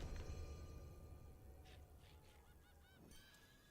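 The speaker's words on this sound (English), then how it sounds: "I hear the birds singing outside, which is not a good sign." Birds singing outside at dawn, heard as faint, sparse chirps and calls at a distance over a low, steady background hum, with no talking.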